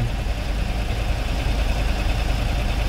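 A car engine idles steadily at close range during a manual-transmission driving test, a continuous low rumble with a faint knocking texture, no talk over it.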